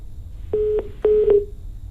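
Telephone line tones as a caller's connection drops, two pairs of short, clear, steady beeps in quick succession over faint background hiss.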